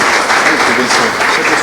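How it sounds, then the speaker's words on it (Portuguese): A church congregation claps for the Lord, a dense, lively wash of applause at close range, with voices mixed in beneath the clapping. "Uma linda salva de palmas ao nosso Senhor."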